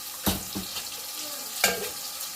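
Ginger-garlic paste and tomato stirred into frying onion in a pan for egg biryani: two sharp spoon scrapes over a soft, continuous sizzle, close by.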